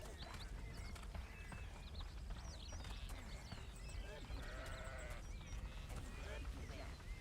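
Sheep bleating in the video game Overlord, several bleats amid busy game ambience and clopping hooves, faint and layered, with a voice talking at times.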